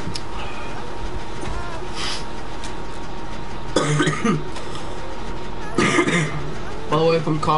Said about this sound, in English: if I'm coughing a lot, it's my sickness.